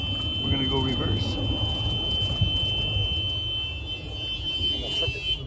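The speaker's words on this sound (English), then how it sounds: "Flip it into reverse, got your backup buzzer." A steady high-pitched reverse backup buzzer on a Club Car DS golf cart drones continuously over a low motor rumble, with a person talking nearby.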